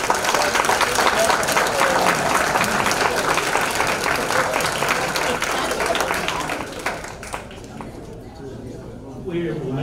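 A banquet-hall crowd gives sustained applause for athletic Hall of Fame inductees, a dense, steady roar of many hands that tapers off near the end.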